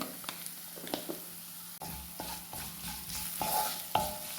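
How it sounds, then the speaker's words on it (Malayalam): Ginger, garlic, green chilies and turmeric powder fry in a pan, producing a soft steady sizzle close up, with repeated sharp scrapes and taps from a stirring spoon. "മഞ്ഞൾപ്പൊടിയും കൂടി ഇട്ടിട്ട് ഒന്ന് ജസ്റ്റ് മൂപ്പിച്ചെടുക്കാം"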